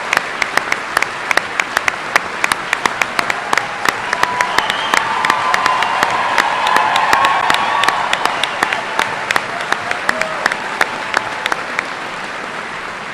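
A large audience at a high school graduation ceremony claps continuously for about thirteen seconds, with cheering swelling in the middle before settling back to steady applause.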